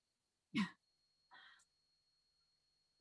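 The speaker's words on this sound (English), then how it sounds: "I'm going to clear my throat real quick." A single rough throat clearing, followed by a softer second rasp, then quiet.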